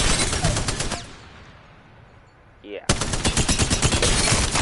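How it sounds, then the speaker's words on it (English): An LMG light machine gun blazing on full auto in Apex Legends, dense rapid bursts before and after a short lull, loud and close, with a brief spoken word in between. "This is a fully automatic LMG light machine gun."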